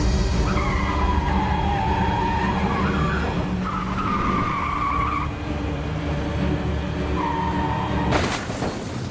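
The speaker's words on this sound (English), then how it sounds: "she crashed the car" A cartoon car skids with a long, wavering tire squeal over a loud engine rumble, then ends with a sudden crash impact near the end, all as a sound effect for an animated story, with no speech.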